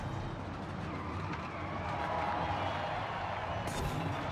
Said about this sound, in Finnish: Kuulee moottorin kierrokset ja miten se käyttäytyy.